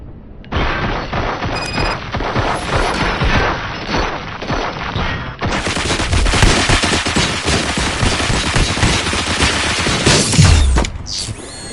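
Rapid automatic gunfire and booming shots from the video game RoboCop Rogue City, dense and loud bursts continuing in sustained volleys with mechanical clatter and crashes.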